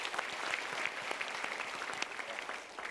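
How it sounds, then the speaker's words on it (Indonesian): Audience at a motivational seminar applauding, a steady, moderately loud mass of clapping from a crowd with no voices over it. "Kita berikan tepuk tangan dulu."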